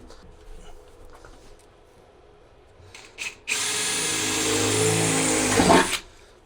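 Power drill bores out a mounting hole in the floor of a VS30 Mercedes Sprinter camper van during a passenger seat install: a steady, loud whine of about two and a half seconds after quiet handling sounds, rising slightly before stopping.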